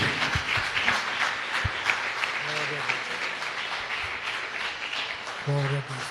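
A church congregation applauding together in a dense, sustained wash of clapping that fills the room, with voices calling out over it and brief tonal sounds rising now and then.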